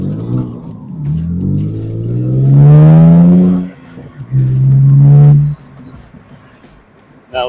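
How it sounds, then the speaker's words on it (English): A 2004 Morgan Roadster with a 3-litre V6 revs hard twice: a long climbing roar that peaks and cuts off, then a shorter, steadier blip. It is close and loud, with no talking. "Now the engine's warmed up, it is wanting to go."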